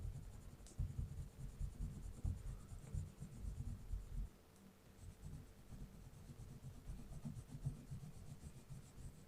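Gray oil pastel being rubbed and spread across paper, a soft, close scratchy friction in irregular strokes with a brief pause midway, then quieter rubbing.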